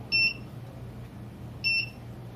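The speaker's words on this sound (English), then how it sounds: "We'll go over and we will arm the ignition circuit. So we go to 1 beep." A rocket ignition circuit gives a single short electronic beep after being armed, heard twice over roughly a second and a half, thin and high-pitched above a low steady hum.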